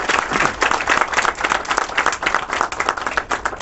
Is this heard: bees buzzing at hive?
no